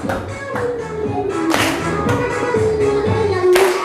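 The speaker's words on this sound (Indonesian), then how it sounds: "tepuk tangan" Children in a primary school class clap along with a movement activity, bursts of hand claps and taps over background music.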